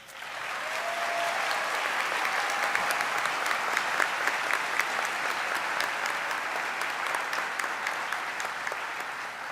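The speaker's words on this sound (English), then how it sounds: "I invite you to add to that joy with your applause for these students." A large audience at a medical school white coat ceremony for incoming MD students claps in a sustained, dense ovation, swelling in quickly and holding steady before easing slightly toward the end.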